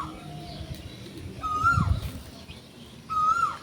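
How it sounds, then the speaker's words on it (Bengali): An Asian koel calls from fairly far off in a rural garden, giving two clear rising notes about a second and a half apart over quiet outdoor background, with a brief low thump between them. "কোকিল ডাকছে"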